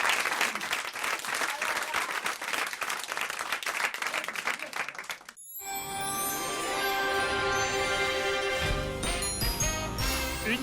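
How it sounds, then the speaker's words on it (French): Studio audience on a French TV show breaks into loud, sustained applause after a few seconds of clapping, joined by a bright jingle and chime music that swells and continues under the clapping. "on vous applaudit et on vous embrasse"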